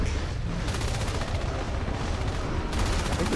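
Rapid automatic gunfire pours into the alien hive in Natural Selection 2, dense overlapping shots firing continuously at close range, with brief changes in the firing pattern partway through.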